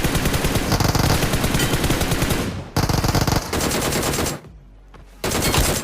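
Uzi submachine gun fire in a shooting video game, loud rapid automatic bursts in long strings broken by short pauses and a quiet gap near the end.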